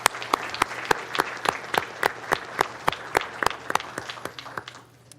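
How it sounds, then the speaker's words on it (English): Sparse, evenly spaced hand claps from a small group at a county commissioners' business meeting, a steady patter of individual claps that thins out toward the end. "If everyone will please join me in a round of applause to honor these two great managers."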